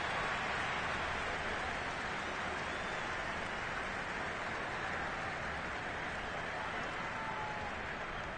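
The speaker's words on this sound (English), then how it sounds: "Charles, the forecast called for rain throughout the entire game, and we got rain throughout the entire game" Rain falls throughout an American football game in Madden, heard as a constant broad wash of hiss at moderate level, unbroken and without speech for the whole stretch.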